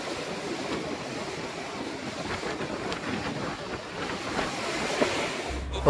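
Rough sea waves at Digha beach roar and wash in continuously, loud and close, with wind buffeting the microphone and no voices.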